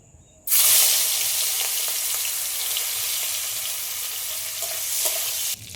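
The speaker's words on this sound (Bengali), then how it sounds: "এবার আমি এই যে চিংড়ি মাছগুলো কেটে ধুয়ে পরিষ্কার করে রেখেছিলাম, লবণ আর হলুদ মাখিয়ে নিয়েছি, এগুলো একটু ভেজে নেব।" Shrimp coated in salt and turmeric drop into hot oil with a sudden loud burst of sizzling that settles into steady, crackling frying, then cuts off near the end.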